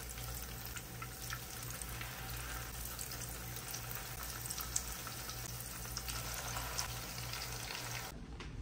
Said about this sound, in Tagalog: Hintayin lang natin mag-init yung oil at saka ilagay na natin yung tortang talong